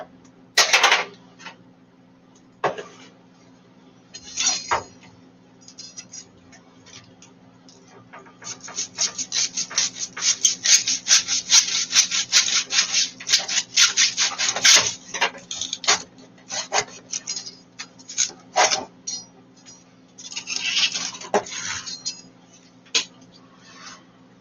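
A knife cutting through a fresh pineapple in a kitchen, with bursts of rough, rasping sawing and crunching strokes that grow denser toward the middle, close and fairly loud, with brief pauses between cuts.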